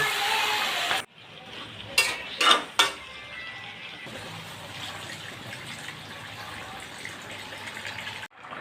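Washed home-grown Malabar spinach tipped into spices frying in oil for a hilsa curry: a sizzle, then a few loud clattering bangs of utensils and a wet rush as the greens drop in, settling to a steady frying hiss.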